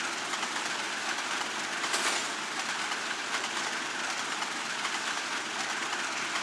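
A train rolls along the rails nearby, a steady broadband rumble with faint clickety-clack from the wagons holding an even level throughout, with no voices.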